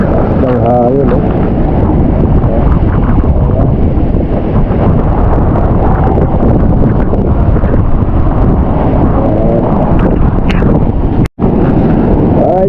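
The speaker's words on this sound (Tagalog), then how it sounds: "Ang hangin, no?" Strong wind buffets the microphone of a GoPro at the seashore in Bukana, a loud, constant roar that fills the whole stretch, with a voice talking underneath and a brief dropout near the end.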